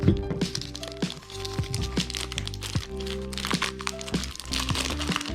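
Plastic shrink wrap on a speed cube package is cut and pulled open, giving a close run of crackling, crinkling and sharp snapping sounds with small knocks, and no voices.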